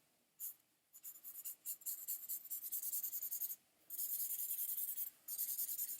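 An ink pen that is running out scratches across paper while an animal is drawn, giving bursts of dry, rapid scratching strokes separated by short pauses, close and clear.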